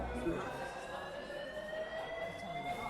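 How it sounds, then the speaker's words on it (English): A fire alarm sounds as a steady, continuous electronic tone over the background din of a restaurant dining room. "I don't know if someone just pulled the fire alarm"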